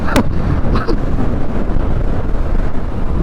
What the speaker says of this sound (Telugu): అంత గాలి వేస్తుంది.